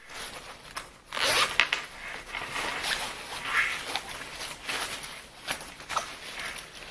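Zipper on a small passport pouch pulled open and shut, a few quick close rasping zips separated by brief pauses and light handling noise.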